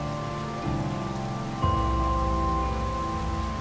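Rain falls steadily in the video game A Way Out, a continuous hiss with faint tonal layers underneath that shift and grow louder partway through, with no speech.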